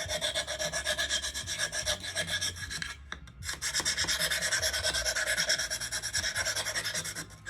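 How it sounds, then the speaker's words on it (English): Sandpaper rasping back and forth over a wooden Dollar Tree crate, steady close scratching strokes with a brief pause midway. "But I just give it a good sanding in between those."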